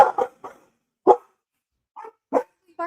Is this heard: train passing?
no